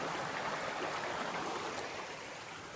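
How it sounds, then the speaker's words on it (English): A small creek spills over a little waterfall on a muddy, rain-soaked trail, giving a steady, close rushing wash of water with no voices over it. "Like the little waterfall."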